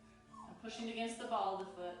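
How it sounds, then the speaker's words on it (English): A dog whines and cries from another room during a yoga practice, giving rising, wavering yelps at moderate distance while a person talks over them. "if you hear a little doggy whining and crying"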